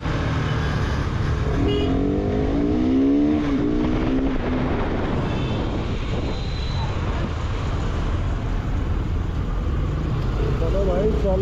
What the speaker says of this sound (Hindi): इतना ट्रैफिक है, ट्रैफिक है